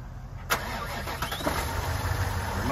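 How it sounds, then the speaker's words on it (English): A Nissan Titan Platinum Reserve pickup truck engine with 100,000 miles, remote started, cranks with a sharp start and settles into a steady, close idle hum that runs on without talking. "Remote start works, starts up nicely."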